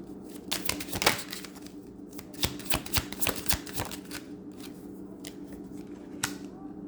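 Tarot cards are shuffled and handled before a single card is drawn, producing close, crisp riffling flicks and slaps in irregular bursts, busiest early on and thinning toward the end.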